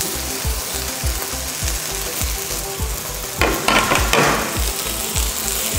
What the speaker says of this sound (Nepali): यसमा मजाले एकछिन भुट्ने।